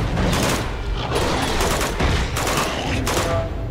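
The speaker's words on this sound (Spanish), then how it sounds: "Estoy quedando más bien sordete con los disparos." Sustained gunfire from the video game Uncharted 2, dense bursts of shots and booming impacts overlapping in a loud, continuous barrage with a few sharper peaks.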